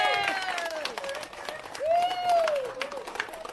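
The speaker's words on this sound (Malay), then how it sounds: "Beri tepukan." Applause and cheering at a political rally as the candidate arrives, moderate clapping with voices and whistle-like calls rising over it.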